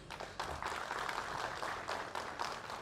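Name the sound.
audience applause at Republic Day celebration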